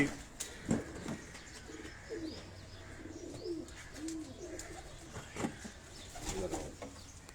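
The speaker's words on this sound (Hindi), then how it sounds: "अब इस कबूतर को देखें आप, ये भी कसूरी कबूतर, बड़ा टैडी ब्रीड में ये कबूतर" Kasuri pigeons of the large teddy breed coo on a rooftop in Karachi, soft repeated low coos and a few chirps rising and falling over several seconds, moderately near, with no talk over them.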